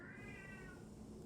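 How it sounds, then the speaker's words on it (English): A house cat gives one drawn-out meow, faint and somewhat distant, over a low indoor background hum. "Sorry, that was my cat. I don't know if you heard her."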